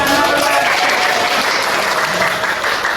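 A primary school class claps after a pupil reads a poem, a dense, loud burst of applause that carries on steadily throughout.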